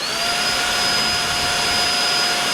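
A Tineco Pure One X cordless vacuum cleaner runs steadily and close, a constant whirring whine with a high tonal hum, no pauses for the whole stretch.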